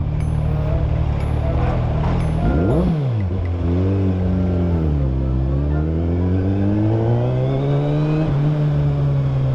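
A 2024 Suzuki Hayabusa with dual exhaust roars loud and close, holding a steady idle before sharp throttle blips rise and fall in pitch, then settling and revving again.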